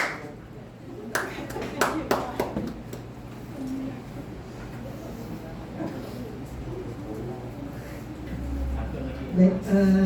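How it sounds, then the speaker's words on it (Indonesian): Indoor audience applause at a gathering, a short burst of clapping early on that quickly fades into quieter room noise and murmuring. "Boleh tepuk tangan untuk Miss Reni"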